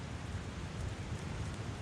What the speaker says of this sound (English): it's pissing rain. I mean, absolutely stupid rain.